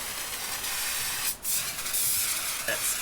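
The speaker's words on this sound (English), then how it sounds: "just oil the air filter liberally" Oil is sprayed liberally onto a pit bike air filter in a continuous close hiss. The hiss breaks off briefly once near the middle, then resumes just as loud.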